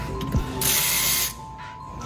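A ratchet wrench clicks quickly while tightening brake caliper bolts during a Baer big brake install on an F-body Camaro, close and clear, with a brief hissing burst in the middle.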